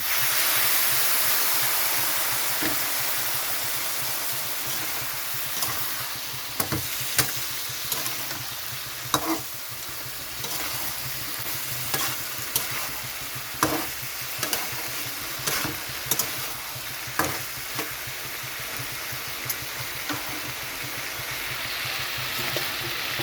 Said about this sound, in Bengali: এখানে একটু গরম জল দিয়ে দিচ্ছি ভালোভাবে কষানোর জন্য।